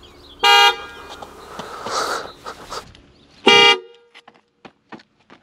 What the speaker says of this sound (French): Et vous pourrez aussi déclencher les clignotants et le klaxon de la voiture